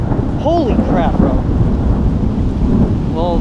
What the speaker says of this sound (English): we finally got to the end of this miserable thunderstorm